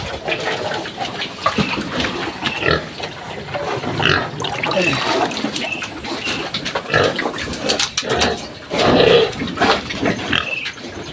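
Pigs eat feed mixed with coconut trunk, with wet slurping, chomping and snorting close by, plus occasional grunts and splashy sloshing that carry on throughout.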